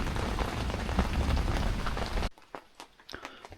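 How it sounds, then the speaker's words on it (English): Rain pattering steadily on a tent at a mountaintop campsite during a storm, loud and dense at first, then cutting to sparse, scattered drops and light tapping. "let's kick back, listen to some rain"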